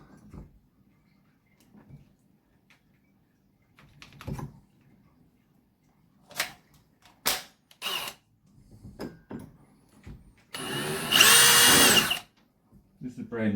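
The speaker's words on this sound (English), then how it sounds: "Drill your pilot hole." A short burst of a power drill boring a pilot hole in timber while fixing a door, loud and broadband for about two seconds, preceded by scattered clicks and handling knocks.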